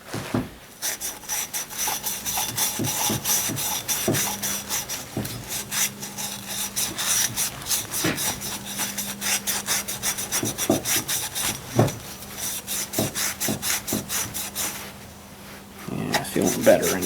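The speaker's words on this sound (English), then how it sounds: "It might need a little bit of Scotch-Brite pad cleaning." A Scotch-Brite pad scrubs the inside of a wheel bearing housing on a Ford 800 tractor, giving steady close rasping strokes with scattered sharp clicks throughout, while someone talks over the scrubbing at intervals.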